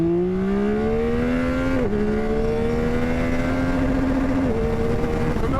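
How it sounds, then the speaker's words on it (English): Loud, close engine of a 2025 Yamaha R9 motorcycle pulling hard from a launch, pitch climbing steadily through the revs with a brief dip at each upshift, continuous and alone. "Let's do a little bit of a launch on it just for fun."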